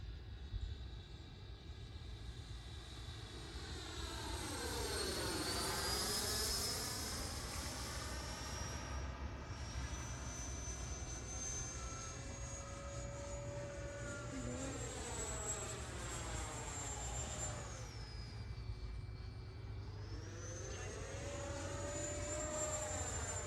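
An FMS BAE Hawk Red Arrow model jet with an 80mm electric ducted fan makes a slow pass at part throttle, its steady whine rising and falling in pitch as it sweeps by over continuous wind noise outdoors.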